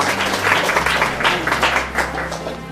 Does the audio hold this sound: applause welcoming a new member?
yes